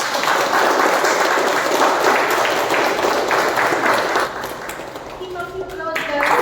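Steady applause from the audience at a Toastmasters awards moment during an Onam meeting, thick and continuous for several seconds before thinning as a voice begins talking over the last claps.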